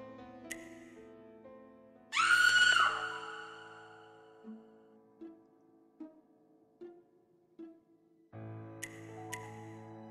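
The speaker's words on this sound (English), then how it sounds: "I've been summoned to investigate a scream." A brief, sharp scream cuts through the soft background music of the Midnight Mysteries: The Edgar Allan Poe Conspiracy video game, followed by scattered quiet game effects and a swell of music.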